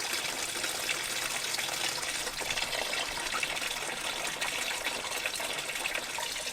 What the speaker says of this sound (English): all we're doing is draining the casting and the block